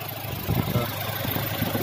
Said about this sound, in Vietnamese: Máy nổ rất là tròn đô luôn cho anh chị, rất là tròn